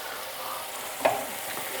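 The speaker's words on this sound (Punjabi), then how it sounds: "ਹੁਣ ਇਸ ਸਟੇਜ ਦੇ ਉੱਤੇ ਆਪਾਂ ਦਾਲ ਇਹਦੇ ਵਿੱਚ ਪਾਵਾਂਗੇ" Green moong dal drops into hot ghee tadka with carrots, a steady close sizzle broken by one sharp splash-like burst midway, then frying continues evenly with no talk.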